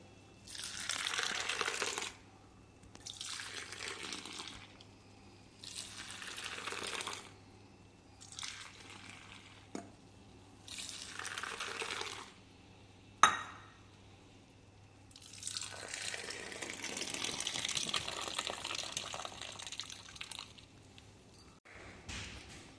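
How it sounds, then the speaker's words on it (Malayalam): Madras filter coffee is poured back and forth between vessels to froth it, giving several splashing streams of liquid with short pauses between them and one longer pour near the end, close and moderately loud. "ഇനി നമുക്ക് ഈ നന്നായിട്ട് ആറ്റി കൊടുക്കാം"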